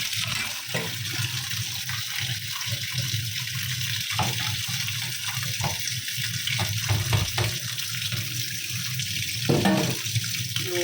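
Raw prawns rinsed under a running kitchen tap: a steady, close rush of water splashing into a sink, with small shifts as the prawns are moved in the stream.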